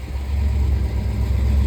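A restored 1957 Ford Thunderbird sits idling, its engine giving a steady low rumble that stays close and even, with no voices over it.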